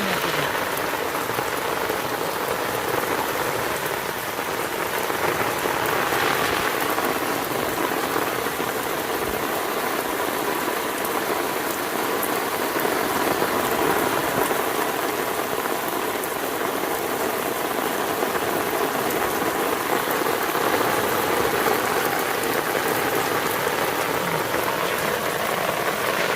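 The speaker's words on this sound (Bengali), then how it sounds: "ওরে বৃষ্টি।" Heavy rain pours steadily and loudly on open ground near a fishing spot during the monsoon, a dense continuous patter with no break for the full length.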